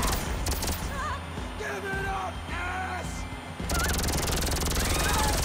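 Gunfire from an alien-killing gun in Grand Theft Auto V comes in a steady rattling stream with whistling, sweeping game tones over it, growing louder and denser toward the end.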